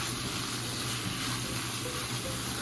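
Ground beef cooking with brown sugar sizzles steadily in a pan, a continuous close crackle with soft stirring scrapes underneath, without pause.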